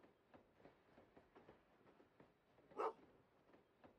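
A dog barks in the Potion Permit video game, one loud bark standing out over a faint rhythmic clatter of a moving train.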